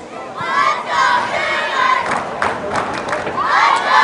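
A crowd of soccer fans at a girls' high school state championship match cheers and shouts on and off, loud and close, with voices rising in bursts over a constant roar of the stands.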